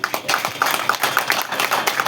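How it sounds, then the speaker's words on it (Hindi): An audience at the opening of an RCM PUC centre in Balwantpura, Jhunjhunu, claps steadily for honoured teachers. The close, dense clapping carries a few louder individual claps and runs without a break from start to finish. "एक बार मेरे आदरणीय सम्मानित गुरुओं के सम्मान में जोरदार तालियां।"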